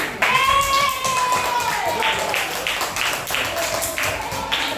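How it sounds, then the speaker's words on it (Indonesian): A classroom of students claps for a classmate at a teacher's request, a few seconds of scattered hand claps with whistling tones and chatter mixed in. "Tepuk tangan untuk Mary"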